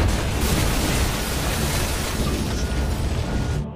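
A bomb blast in a film scene, a dense, loud roaring rumble that fills the whole stretch and cuts off abruptly at the end, with no voices.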